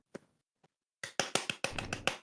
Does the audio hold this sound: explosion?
no